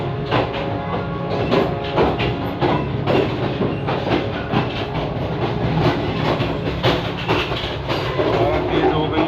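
A passenger train on the Rawalpindi route rolls into Sohawa station, giving a steady, loud rumble of wheels and carriages with repeated rhythmic clacks over the rails throughout.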